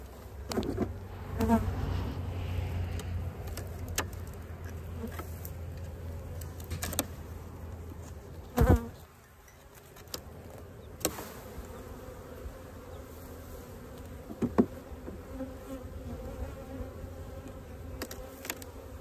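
Honey bees buzzing around an open queenless hive, a continuous close drone with individual bees passing near, plus occasional clinks and bumps of hive equipment being handled.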